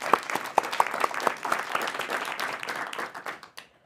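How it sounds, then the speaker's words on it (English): A small talk-show audience claps, several sharp individual claps up front merging into a brief scattered round that thins and fades out within about four seconds. "I think that deserves an applause"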